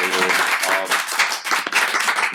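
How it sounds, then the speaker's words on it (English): A short burst of clapping from a group of people at the start of a podcast-style gathering, dense and steady throughout, with voices talking over it. "Can we just get a round of applause?"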